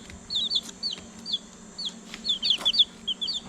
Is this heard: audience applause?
no